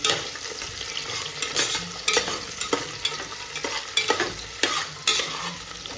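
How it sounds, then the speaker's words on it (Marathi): Green chillies sauté in hot oil in a pan while chicken pulao is being cooked, giving a steady close sizzle broken by repeated scraping and stirring strokes of a spoon, with no talking. "दोन मिरच्या घेतल्यात मी हिरव्या मिरच्या त्या पण टाकते थोडंसं परतून घेऊया याला पण"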